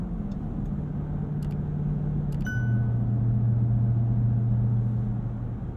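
A 2023 Dodge Durango SRT Hellcat engine accelerating from inside the cabin: a steady, loud low drone that deepens and swells midway as power builds.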